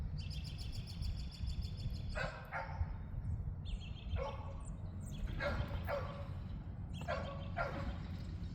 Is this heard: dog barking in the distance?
yes